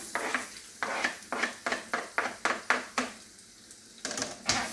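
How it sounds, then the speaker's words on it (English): Onion stirred into foaming butter in a pan, a steady close sizzle broken by repeated scraping strokes of a spoon in a fairly even rhythm, with a brief quieter stretch before the stirring resumes. "So now that our butter is foaming up nicely in the pan, I'm going to add in our onion."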